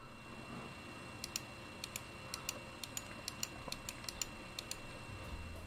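A Logitech G Pro mouse gives a series of crisp, faint left and right button clicks in an irregular rhythm against a quiet background, with no talk.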